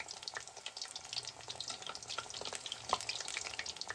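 Okra tempura in thin batter fries in oil over medium heat, a soft, steady crackling sizzle with scattered tiny pops, fairly quiet and without any talk.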